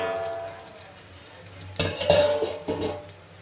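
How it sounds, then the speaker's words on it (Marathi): Eggplant being stirred and sautéed in a pan, with a spoon scraping and clinking against the metal in a few short bursts over a quiet background. "आता आपण वांगे छान परतून घेऊया."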